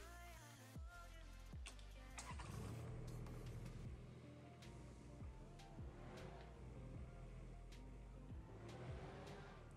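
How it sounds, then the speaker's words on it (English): A compact AVANT loader engine in Farming Simulator 19 drones steadily, a low mechanical hum with a few pitch shifts as it revs and drives, fairly quiet and without speech. "let's go ahead and take a listen to the engine sounds"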